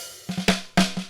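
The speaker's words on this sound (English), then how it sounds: "So we have both snare top and bottom." Sharp, bright snare drum hits, close and loud: a few quick strokes then a single accented crack, each with a ringing body tone and crisp rattle.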